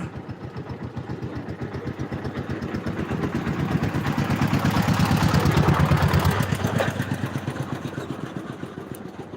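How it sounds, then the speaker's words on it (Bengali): A trawler boat engine chugs in a fast, even rhythm close by, swelling louder in the middle and easing off toward the end, with no voices. "এই যে ট্রলারটা খালি বারবার ঘুরাইতেছে"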